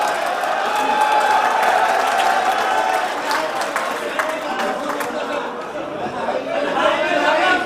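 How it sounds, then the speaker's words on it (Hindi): Audience applause and cheering welcome the poet Altaf Ziya at a mushaira held at Bharat Ayurved Medical College, Muzaffarnagar, a dense, steady crowd roar mixed with chatter and voices that lasts throughout. "तालियों की गूंज में इस्तकबाल करें अपने महबूब शाह जनाब अल्ताफ जिया साहब का"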